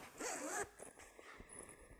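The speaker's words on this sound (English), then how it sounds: "So the zip works beautifully." A zipper on a sewn fabric travel pouch is pulled in one quick, close rasping stroke, followed by softer fabric handling.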